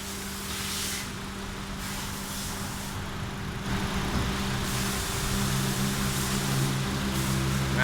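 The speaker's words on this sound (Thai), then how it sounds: "เครื่องยนต์ VTEC นะ" A Honda City 1.5 VTEC manual-gearbox sedan idling, a steady low engine hum with a constant tonal drone that swells slightly partway through, heard close and alone.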